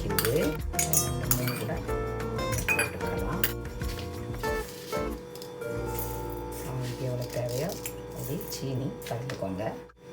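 A couple of ice cubes dropped into a glass of fresh mint juice, clinking sharply against the glass in several quick knocks, mixed with kitchen clatter and talk.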